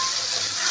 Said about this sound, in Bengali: সামান্য একটু পরিমাণ জল দিলাম।